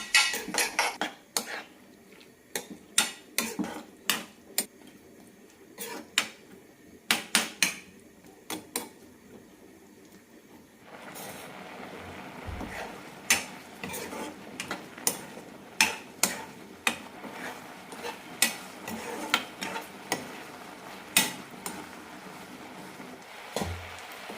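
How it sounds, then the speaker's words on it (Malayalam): A spoon stirring half a cup of curd in a cooking pot for Kerala kalan, a string of sharp metallic clinks and scrapes, irregular and close, quiet between strikes, with a slight rise in background hiss midway. "നന്നായി മിക്സ് ചെയ്ത് തൈര് വറ്റിച്ചെടുക്കണം"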